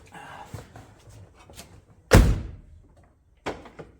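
A Jaguar XJ8 car door is opened from inside after an inside door handle cable replacement: one solid latch thunk mid-clip, preceded by soft handling clicks and followed by a lighter knock.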